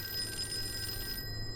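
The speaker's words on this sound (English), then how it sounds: "Oh, phone call." Telephone ringing in the horror video game Call of Cthulhu: a steady, electronic-sounding bell tone held at moderate level over a low background hum, with no talking.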